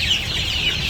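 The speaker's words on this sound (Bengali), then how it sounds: "ওই যে মুরগি আইতেছে দেখবা" Chickens kept with quail give a short burst of close, soft clucking, a brief run of throaty calls with no talking.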